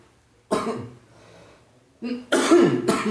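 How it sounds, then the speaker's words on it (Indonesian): Two sharp coughs, close to the mic, separated by a brief pause in an otherwise quiet room. "Sorry, terbatuk-batuk."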